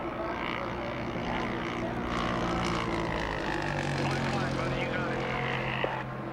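A failing NASCAR race car engine in the 2001 NAPAonline.com 250 chugs and drones roughly like a two-cylinder tractor, a steady engine rumble running throughout beneath commentary talk.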